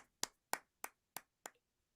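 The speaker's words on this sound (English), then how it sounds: "We got claps. We got sympathy claps." Five sharp, evenly spaced claps ring out one after another in a quiet room during a fandom quiz game show, each short and crisp with a brief decay, with no talking.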